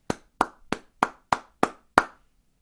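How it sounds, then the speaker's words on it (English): Children in a primary classroom clap a rhythm of seven sharp, evenly spaced claps in unison, each crisp and close with a quick decay, alone without talk. "You shouldn't have clapped after that one"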